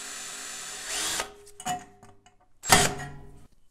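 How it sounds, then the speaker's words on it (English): A power drill bores a hole through 16 gauge sheet metal, with a brief whir followed by two short grinding bursts and quiet pauses between, close and fairly faint. "First, we're going to need to drill a hole to install the rivet."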